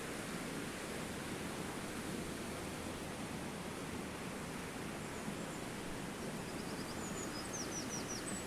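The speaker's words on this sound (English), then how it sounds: "I love the sound of falling water." Constant rushing of falling water in the kitchen garden at Château de Villandry, Loire Valley, fills the scene evenly, a soft steady wash, with a few faint bird chirps late on.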